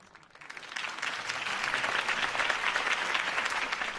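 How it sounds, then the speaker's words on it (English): Crowd applauding at a campaign speech in the Batman Telltale video game, swelling from a quiet start into sustained, dense clapping that stays loud and steady throughout with no talk over it. "If only Mr. Wayne, my campaign's largest backer, could have heard that applause"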